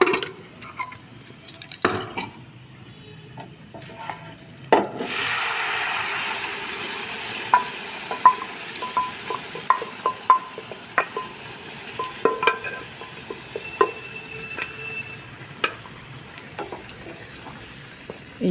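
Tempering spices are dropped into hot oil with browned onions and begin sizzling, a steady frying hiss that jumps up and continues under sharp clicks and scrapes of a utensil stirring in the pan.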